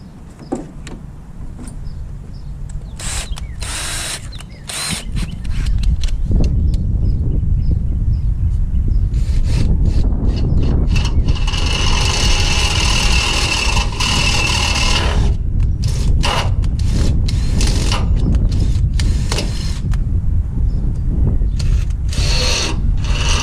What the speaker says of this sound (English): let's drill it out the corner